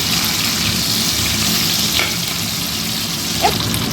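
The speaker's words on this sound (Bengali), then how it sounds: "দু পিস মাংস ভেজে নিলে বোঝা যাবে যে ভাজাটা হয়েছে এইভাবে ফ্রাই করলাম" Chicken pieces fry in a hot pan, a steady, dense sizzle holding at an even level throughout with a couple of faint pops and no voices.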